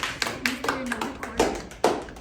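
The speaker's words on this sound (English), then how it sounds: "Can you clap hands for them?" A few scattered hand claps from a classroom group, sparse and uneven, with short sharp claps standing out over quiet room noise.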